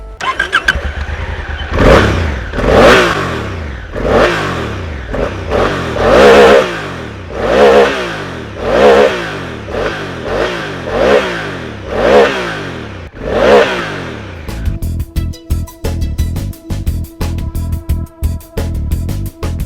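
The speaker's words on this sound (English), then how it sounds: "It has a traditional rumble of a twin cylinder motor" A Honda Africa Twin's twin-cylinder motorcycle engine revs repeatedly, about ten rising-and-falling throttle blips with a deep rumble, then settles into a rough, pulsing idle.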